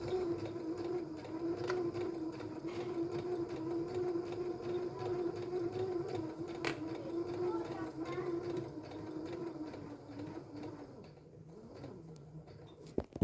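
A sewing machine runs a seam on a fabric scrunchie, a steady close whirring motor hum with fine rapid needle ticks, a few sharp clicks, slowing and stopping near the end, fairly quiet.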